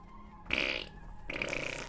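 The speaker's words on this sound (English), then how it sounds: "They fart just like me!" Small alien creatures in the video game High On Life let out two blubbery, belch-like fart sounds, each a short loud burst close up, over a quiet game background.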